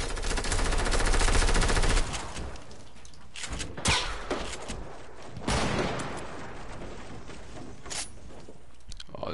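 Fortnite gunfire: a fast burst of loud automatic fire opens the scene, followed by scattered sharp single shots and impacts amid game noise.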